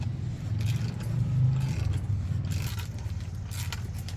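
Coil spring squeezed in a spring compressor during a Rough Country 2 inch lift kit install on a 2023 Colorado Trail Boss, a steady close grinding scrape with faint metallic ticks throughout.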